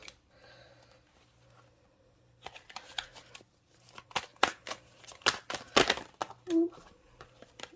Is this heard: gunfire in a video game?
no